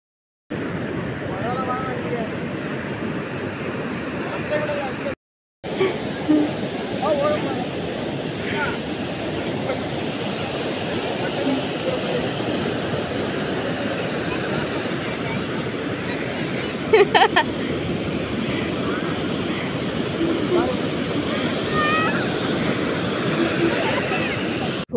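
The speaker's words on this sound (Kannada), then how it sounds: "ಆ ಸೌಂಡ್ ಎಷ್ಟು ಜೋರಾಗಿ ಅಲೆಗಳು ಬಂದು ಇದಾಗ್ತಾ ಇರೋ ಥರ ಕಿವಿಗೆ ಎಷ್ಟು ಚೆನ್ನಾಗಿ ಬೀಳ್ತಾ ಇತ್ತು." Ocean waves breaking on Gokarna beach in light rain, a continuous loud roaring surf wash with rolling swells, broken by a brief gap early on and faint voices now and then.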